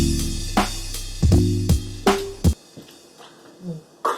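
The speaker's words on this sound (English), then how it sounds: "I put a bit crusher on it." A melody loop in a dubstep-style beat plays through a bit crusher, sounding gritty and lo-fi with choppy stabbed notes, then cuts off abruptly halfway, leaving faint scattered digital blips.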